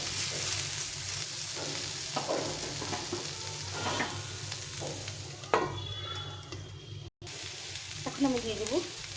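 Chillies frying in a pan while being stirred, a steady sizzle with scraping strokes of a spoon at irregular intervals, close and fairly loud, a short gap near the end.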